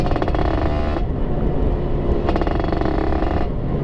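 A Suzuki Satria 120R motorcycle with an aftermarket exhaust revs loudly and close, with two strong throttle bursts separated by a lower idle.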